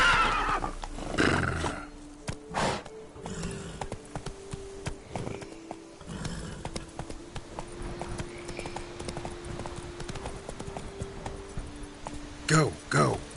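A horse in The Witcher 3 video game gallops with rapid, steady clip-clop hoofbeats and lets out neighs and whinnies near the start and end, with game sound and some voice around it.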